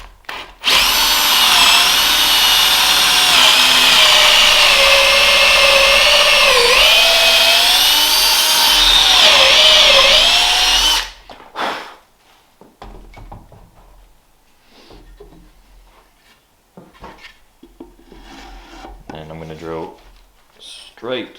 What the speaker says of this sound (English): So we're just going to drill straight down.